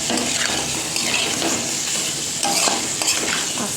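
Mutton with spices and stock stirred in a pan, a loud close wet sizzle with repeated scraping strokes of a spoon, continuous over a few seconds.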